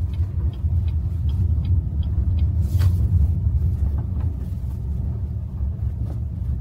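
A continuous low road rumble from beneath a moving BYD Dolphin Surf electric car, steady and fairly loud, with occasional faint ticks and knocks.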